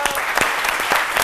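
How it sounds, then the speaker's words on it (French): Short burst of applause in a radio studio honoring a decorated Ivorian inventor, with dense clapping mixed with voices speaking over it. "Donc ça s'applaudit."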